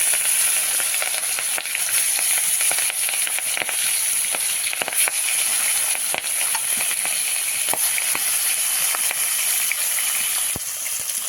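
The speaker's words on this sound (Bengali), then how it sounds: "পোনা মাছটা একটু সুন্দর করে ভেজে নিতে হবে" Rohu fish frying in hot oil, a loud, dense and steady sizzle with frequent crackling pops throughout, heard up close.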